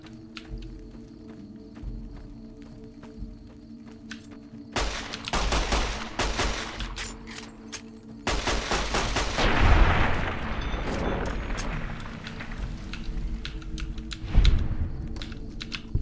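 Pistol gunfire in Fallout: New Vegas, several loud sharp bursts in clusters with booming impacts between quieter stretches, no talking.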